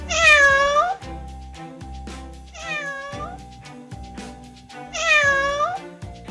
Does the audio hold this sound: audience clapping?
no